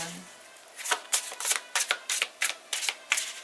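Playing cards being shuffled in quick riffling bursts, about a dozen crisp slaps in a steady rhythm, close and clear with no talking.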